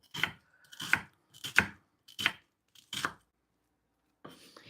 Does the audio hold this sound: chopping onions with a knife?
yes